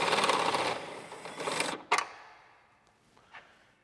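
Air impact gun rattling out the rear bolt of a Tesla Model S rear upper suspension arm, a dense hammering burst that stops with a sharp clack, followed by faint small knocks in a quiet garage.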